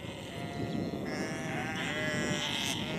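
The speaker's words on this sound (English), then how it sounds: "Just come around here so I can get a look at these sheep behind you" Sheep on a farm run under a technograzing system bleat repeatedly in overlapping calls at moderate distance, forming a steady flock chorus with no talk over it.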